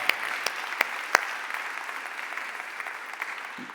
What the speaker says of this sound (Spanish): Démosle un aplauso fuerte al Espíritu Santo.